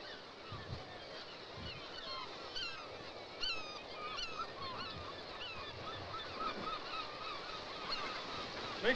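Seabirds call at an island bird colony on a rock sanctuary off the east coast south of St. John's: many overlapping honking and squawking calls from a dense flock, steady over wind and surf, with no talking.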